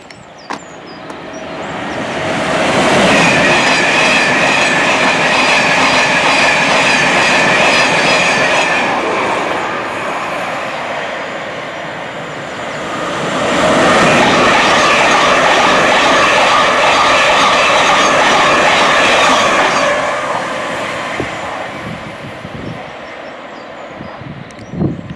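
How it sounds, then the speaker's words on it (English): A fast train rushes through Hadley Wood Station on a London railway line, two loud roaring passes with wheel clatter building and fading, the second surge following a brief lull. "You have to keep your eye out on this station for those fast trains approaching."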